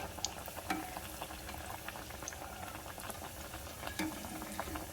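Apple fritter dough fries in hot oil with a soft, steady bubbling sizzle and scattered light crackles, quiet and close, with no voices.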